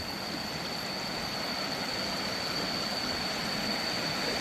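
Tat Nok Khian waterfall with water not yet in full flow gives a steady, dense rushing roar, continuous and fairly close, with no voices over it.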